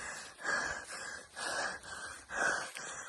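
Heavy, rapid panting after climbing up a hill outdoors, three strong breathy pulses about a second apart with wheezy gasping edges, close to the microphone and with no talking.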